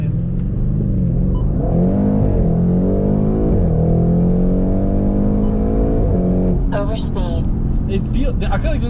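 Nissan R32 Skyline sedan accelerating hard, its engine climbing through the revs with a loud, close, rising drone, then a shift and further revving with speech over the top.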